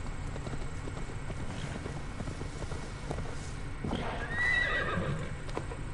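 A horse in Assassin's Creed Valhalla gives a sharp neigh near the end, preceded by soft, low clip-clopping hooves and faint game ambience.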